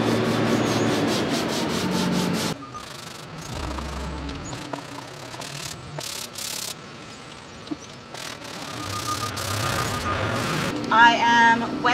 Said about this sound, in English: I am wet sanding